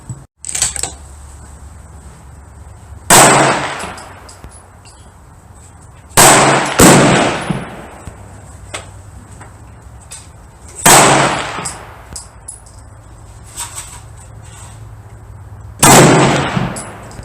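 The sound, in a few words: 7mm magnum rifle shots at the range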